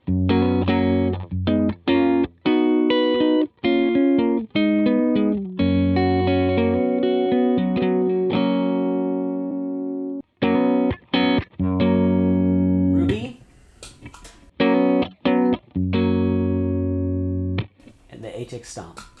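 An electric guitar plays through the Vox amp simulation of a UA Ruby pedal, with lively driven chords and sustained notes in choppy rhythmic phrases and a few short gaps with scratchy string noise near the end.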